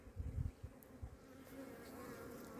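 A steady, close buzzing hum of many honeybees in a hive, with a few soft low thumps near the start, the drone continuing evenly throughout.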